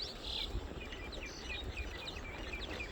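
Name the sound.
birds chirping in village fields at morning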